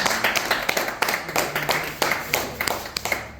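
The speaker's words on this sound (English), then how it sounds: "give Steve Yeah. a round of applause." Applause from an audience at a dragon head demonstration, a fairly close patter of hand claps with uneven rhythm lasting a few seconds.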